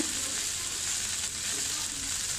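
Steady, loud sizzling of drumstick leaves frying in hot oil, a continuous crackle with no voices.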